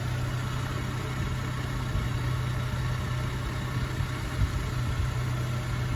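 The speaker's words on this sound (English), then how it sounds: "record the sound of the engine so you can hear it running." A 1998 Saab 9-3 2.0i automatic engine idles steadily nearby, a low even hum with a constant throb, running alone without any voices.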